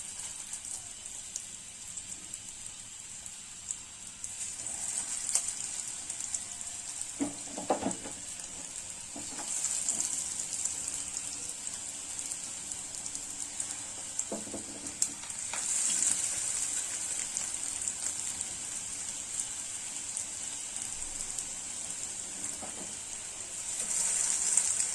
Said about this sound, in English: Make sure you shallow fry them in a medium flame.